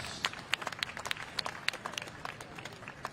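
An audience at the Honolulu Festival gives quick, light applause, with scattered sharp claps from a small crowd heard at a distance over a steady background hum.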